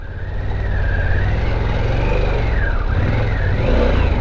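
A Harley-Davidson Pan America Special motorcycle climbs up sand, its engine revving loudly and close, the pitch sweeping up and down in a continuous, rough roar.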